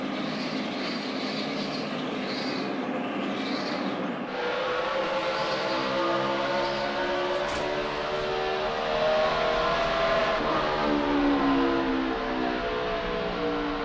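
NASCAR stock cars race at the 2011 Subway Fresh Fit 500, a loud sustained roar of many engines at full throttle, rising and falling as the pack sweeps past and heads into the turn.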